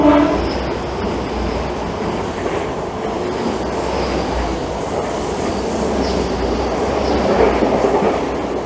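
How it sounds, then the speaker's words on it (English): A train rumbles past close by at Dawlish, a loud steady roar with rhythmic wheel clatter and a faint high whine, no talking. "Happy train!"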